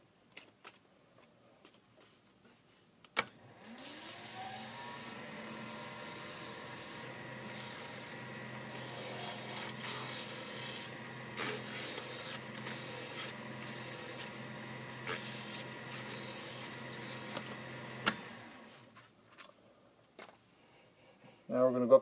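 Sanding a wooden wine bottle stopper by hand: a steady, close scratchy rubbing that runs continuously for about fifteen seconds in pulsing strokes, then stops.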